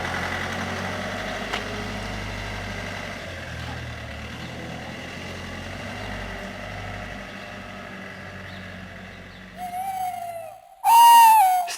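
Tawny owls hoot at night out in the open, a few calls rising clearly near the end over a steady low engine-like rumble that fills the rest of the stretch.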